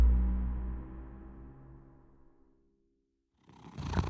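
Cat Gatouille purring, a low rumbling purr close up that fades away over a few seconds, followed by a brief burst of rustling.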